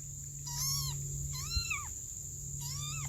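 An abandoned baby kitten gives three thin, high-pitched meows, evenly spaced about a second apart, close and fairly loud over a low steady hum, with no one talking.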